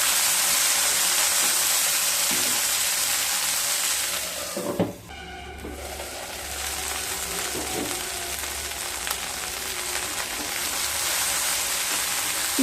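Cube-cut onion and okra frying together in a pan for a Bengali okra do pyaza, a steady close sizzle throughout with a brief stir or clatter near the middle and no talking.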